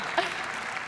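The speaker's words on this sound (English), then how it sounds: "we can clap for that." Audience applause at a live tech presentation, a short burst of many hands clapping at moderate distance, steady and unbroken for under a second with no voices on top.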